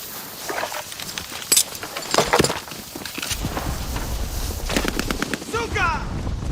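Bursts of video game gunfire crack in short clusters of sharp shots with quieter stretches between, while people talk over the shooting.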